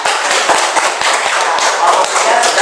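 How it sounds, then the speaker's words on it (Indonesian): Classroom applause for a student group during a practice lesson: dense, steady clapping from several children filling the whole stretch, with sharp overlapping claps and a little chatter mixed in. "tepuk tangan untuk kelompok 3"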